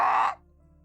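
A person's voice imitates a bird's squawk during a tabletop fantasy role-playing game session, one loud raspy crow-like caw lasting about a third of a second, then dropping to near silence.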